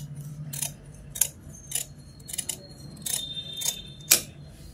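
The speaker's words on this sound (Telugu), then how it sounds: "ఇలా అనేది హ్యాండ్స్ కటింగ్ అయితే చేసేసుకోవాలి." Hand scissors cutting fabric for jacket sleeves, with a series of short, crisp snips spaced irregularly over a low steady hum, close and moderately quiet.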